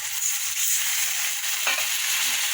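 A steady, close, high hiss of potato and pumpkin curry frying in oil, with a sudden, sharper sizzle burst partway through as hot water is poured in.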